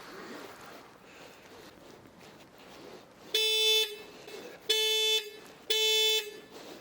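Horn of a SsangYong Rexton Sports Khan pickup truck sounded remotely from an app, three loud close honks in a short sequence after a quieter stretch of background noise.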